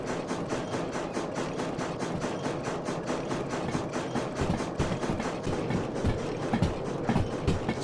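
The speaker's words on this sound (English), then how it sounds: "So majestic, the old SH282. It's definitely a very magnificent locomotive" SH282 steam locomotive rolling along in the Derail Valley simulator game, a steady loud rumble with regular rhythmic clatter and chuffing pulses, continuous throughout with no talk.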